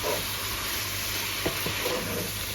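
Green onion whites and light green pieces frying with mushrooms in a pan give a steady close sizzle, with a couple of brief scraping stirs partway through.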